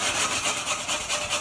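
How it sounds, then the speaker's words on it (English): A wire brush scrubs dented aluminum running board trim on a 1947 Ford street rod in quick, rhythmic back-and-forth strokes, close and raspy, about five passes with no voices. "Using a little bit of a wire brush"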